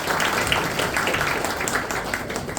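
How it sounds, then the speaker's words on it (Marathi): An audience applauds two people at a poetry event, a dense, steady patter of many hands clapping at moderate loudness with no pauses. "दोघांसाठी एकदा जोरदार टाळ्या."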